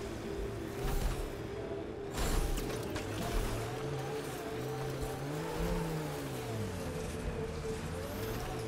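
A vehicle drives over terrain in Mass Effect: Andromeda, its steady engine hum rising and falling in pitch with faint mechanical rattles, continuous and fairly close with no talk.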